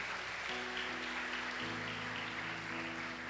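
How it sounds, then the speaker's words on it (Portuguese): A church congregation at a family service applauding, a soft, steady patter of many hands heard from a distance beneath a sustained organ or keyboard chord. "Você pode aplaudir o Senhor Jesus por essa palavra."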